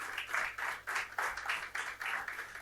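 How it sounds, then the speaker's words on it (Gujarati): Audience applause after a Bhagavad Gita discourse, steady rhythmic group clapping at moderate volume, continuous from start to finish without any voices. "અશોક શર્મા, એમનો તાળીઓનો ગડગડાટ કરી આભાર માનું"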